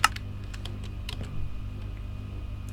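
Brief bursts of computer keyboard typing, sharp close key clicks in small irregular clusters over a steady low hum, with no voices.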